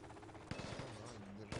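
Gunfire in the military shooter Project Reality, rapid automatic bursts and sharp shots at mid distance over a steady battlefield background, with voices faintly under it.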